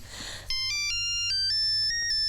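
A mobile phone ringtone plays a bright electronic melody of stepped tones. It starts abruptly and rings loud and steady on its own, with no talking.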